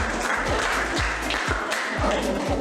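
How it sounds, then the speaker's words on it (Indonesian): Students in a classroom clap for a group, a steady stream of handclaps with a regular pulsing beat about twice per second, moderately loud and close. "kita berikan aplaus untuk kelompok"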